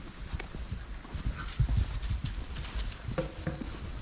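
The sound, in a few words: horses galloping in a field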